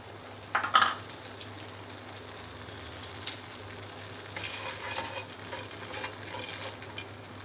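Mustard seeds and cumin sizzle in hot oil in a pan, a steady close frying hiss with a sharp crackle burst near the start and light spattering pops throughout.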